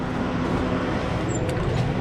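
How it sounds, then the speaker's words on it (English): A loader tractor engine idles on a farm while warming up, a steady low rumble that holds even and unbroken throughout, fairly close. "I just started up the loader tractor here a little bit ago"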